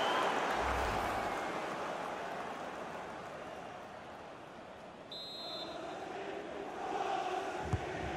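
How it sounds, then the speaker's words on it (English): A stadium crowd in the FIFA 22 video game, Viktoria Plzeň versus CSKA Moscow, roars steadily, a broad wash of cheering that dips and then swells again toward the end. "Well, the crowd are doing their bit."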